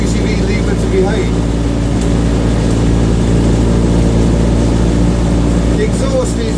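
Loud, steady engine drone of a Citroen 2CV race car with a deep exhaust rumble from a simplified, larger-bore exhaust, constant throughout with no clear revving changes.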